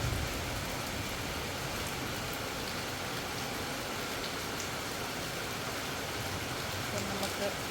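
Steady rain pours on a rainy day in Kerala, a dense, even hiss of drops on surfaces that holds constant throughout without pause.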